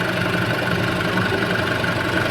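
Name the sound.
Mitsubishi Triton engine idling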